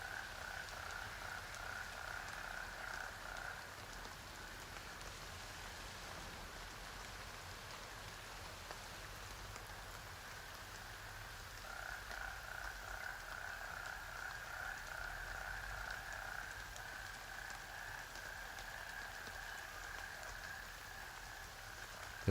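Steady rain falls in a military shooter game world, a soft, continuous wash with a persistent chorus of croaking frogs running beneath it, quiet and unbroken.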